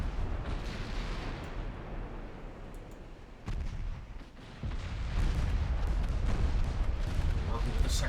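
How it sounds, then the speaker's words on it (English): Torpedo hits burst as rumbling explosions in the naval warship game Ultimate Admiral Dreadnoughts, with several heavy booms over a constant roar of battle and one sharp blast standing out partway through. "Ooh, torpedo hits."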